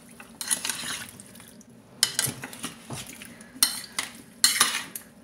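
A spoon stirs lime pickle mixed with vinegar, sounding as several short clinking, scraping bursts against the container with brief pauses between them, close and moderately loud.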